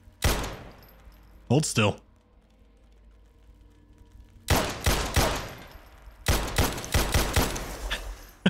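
Gunfire in the video game Subsurface Silicon: an opening shot, a short burst, then long runs of rapid loud shots. A voice speaks briefly between them.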